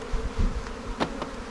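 Honey bees hum around a hive nearby, a soft steady buzzing with a few individual insects swelling louder as they pass close.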